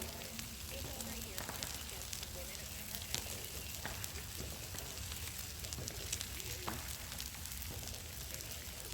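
Porterhouse steaks, potatoes, mushrooms and onions cook over an open campfire, giving a steady soft sizzle and crackle with occasional pops, fairly faint and continuous.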